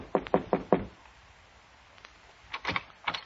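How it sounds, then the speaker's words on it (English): Four quick knocks on a door, an old-time radio drama sound effect set in an office, land close and sharp, then after a pause two more separate knocking bursts follow. "so I knocked on the door"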